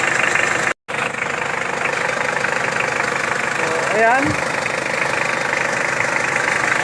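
A Mitsubishi 4D56 diesel engine idles with a steady, close, knocking rumble that runs on throughout, briefly cut out once, while someone speaks a few words over it.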